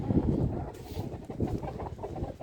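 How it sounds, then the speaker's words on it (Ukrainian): Chickens on a home farm cluck softly and irregularly nearby, with low rustling and scattered short calls over a few seconds. "Йдемо подивимося, де там курчатка."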